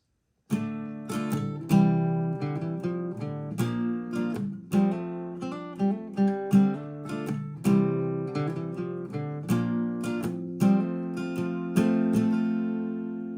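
Acoustic guitar with a capo plays a gentle fingerpicked intro to a song, individual notes ringing out clearly and sustaining, with no voices.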